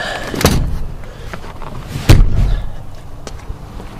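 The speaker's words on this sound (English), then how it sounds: "Let's put these seats back up." Two heavy thumps a couple of seconds apart as the back seats of a 2005 Toyota Highlander are pushed up and latch into place, followed by a light click.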